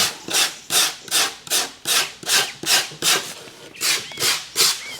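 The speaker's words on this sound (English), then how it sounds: "while our foam is setting, I take advantage of the time to scrape off the surface of our foam" A stout rougher rasps across the surface of setting foam on a taxidermy form for an argali sheep shoulder mount, about a dozen loud, even back-and-forth strokes in a steady rhythm.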